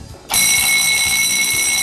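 Smoke detector alarm set off by a spray-type smoke tester during a fire-safety equipment check: after a brief quiet start, a loud, piercing, steady electronic tone sounds continuously and close by.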